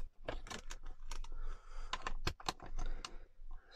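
Scissors snipping through a plastic document wallet cover while making a junk journal, a series of sharp irregular cuts and crisp rustles close to the microphone, with no talking.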